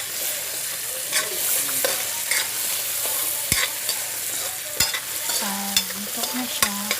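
Aromatics sauté in a hot pan for Filipino ginisang munggo, a mung bean stew, giving a steady close sizzle with periodic scrapes and clinks of a stirring utensil, and no speech.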